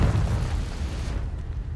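Explosive Bombarda or Confringo spell blast in Hogwarts Legacy, a heavy booming burst that rumbles and decays over about a second before fading to quiet, no speech.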